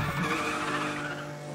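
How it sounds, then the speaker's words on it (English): Tires squeal in a sustained skid as a car drifts in the racing video game Need for Speed The Run, with engine drone beneath, loud and close, and no talk. "Nice drift."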